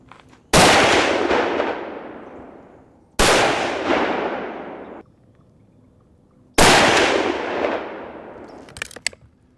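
Three loud, sharp rifle shots firing 150-grain Hornady Interlock bullets, each a sudden crack followed by a decaying echo tail, spaced a few seconds apart with quiet gaps between.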